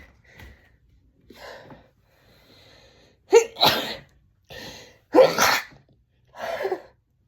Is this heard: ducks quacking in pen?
no